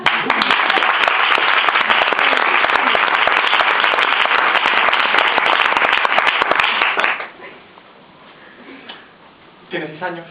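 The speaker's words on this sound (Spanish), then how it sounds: "Aplauso para él." An audience at a storytelling performance claps in dense, sustained applause for about seven seconds before it stops abruptly, then a quiet pause and brief voices follow.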